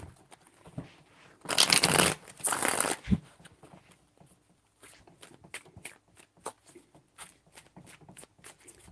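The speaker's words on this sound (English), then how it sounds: "Three shuffles." Tarot cards are shuffled in two quick, crisp bursts close to the microphone, followed by softer taps and handling of the deck in a quiet room.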